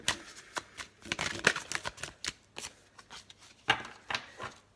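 A deck of tarot cards is shuffled by hand, making a series of sharp riffling bursts and soft slaps in an uneven rhythm, close and fairly quiet, with no voice over it.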